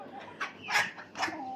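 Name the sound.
chickens clucking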